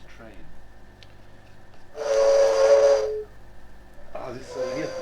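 A Western-style steam train whistle sounds once as a sustained, bright, steady tone lasting about a second, with quieter background noise and a voice-like murmur before and after it.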